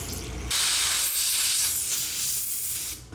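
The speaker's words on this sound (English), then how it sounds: "there's several passages here we need to blow out" Aerosol cleaner sprayed in one steady hissing blast lasting about two and a half seconds, blowing out the passages of a small engine carburetor from a flea market engine, close and loud after a brief quiet start.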